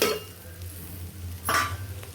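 Quiet scraping of a utensil stirring egg noodles in a frying pan with a faint low sizzle, one louder scrape partway through, close up and without talk.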